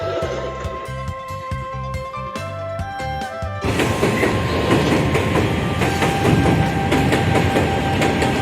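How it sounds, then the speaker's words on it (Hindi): Train at a railway station on an intercity journey from Bareilly, with steady rolling wheels and rail clatter, tonal squeals and rhythmic clicks giving way to a louder, denser rumble as the carriages pass close by. "पहुंच गए हैं हम लोग रेलवे स्टेशन, बट ट्रेन हमारी लेट है"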